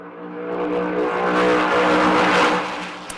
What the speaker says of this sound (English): the acceleration when you first blast out of here is amazing. It's loud.